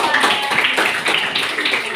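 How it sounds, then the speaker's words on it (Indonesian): Students in an eighth-grade classroom applaud, a brief burst of many hands clapping close and loud, steady for about two seconds. "Sekali lagi tepuk tangan buat kelas 8"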